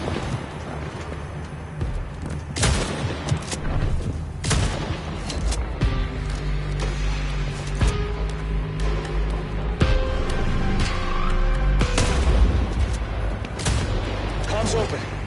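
Gunfire in Vampire: The Masquerade - Bloodlines 2 cracks out in sharp, irregular bursts and single loud shots over game music, with voices talking throughout.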